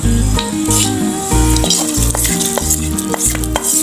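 Rhythmic stirring and scraping as roasted cashews are stirred into pongal in a pan, over a soft, steady sizzle, loud and close.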